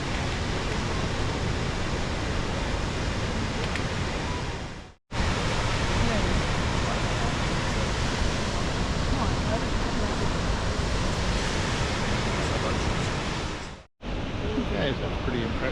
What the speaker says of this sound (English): you can hear the force of the water going over the edge